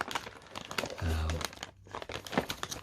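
Crinkling plastic bag from a Kyosho Ultima RC car kit rustles in short bursts close to the microphone, with a person talking over and between the crackles.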